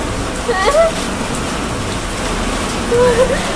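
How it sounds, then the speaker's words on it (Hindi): Heavy rain pours down steadily, a dense, close wash of falling water that runs throughout, with faint bird chirps rising above it twice. "फिर एकदम से इतनी तेज बारिश आ गई ना"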